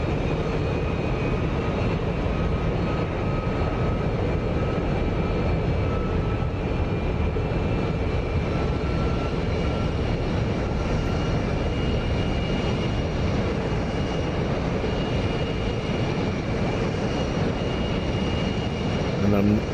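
An F-106 Delta Dart's jet engine roars at full military power without afterburner in a DCS flight simulation, a constant broad rumble and whine that fills the whole clip.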